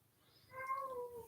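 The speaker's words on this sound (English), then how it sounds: "Oh, and there's my other cat who also has an opinion." A cat meows during a quiet indoor meditation session, a single drawn-out, moderately faint call rising out of a hushed room, with no talking over it.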